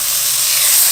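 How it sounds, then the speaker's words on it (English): A loud, steady sizzle and hiss of Black Angus whiskey steak searing on a hot pan, heard up close for a moment. "We want to hear that nice sizzling sound."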